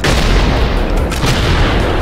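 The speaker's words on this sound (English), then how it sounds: "Exploding shot skeleton." An exploding shot from a skeleton enemy in a video game, a loud, dense, continuous booming blast filling the whole moment without speech.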